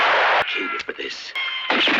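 A gunshot from the 1965 western For a Few Dollars More, a sharp crack at the start followed by further reports and echoing blasts, with film dialogue and sound under it.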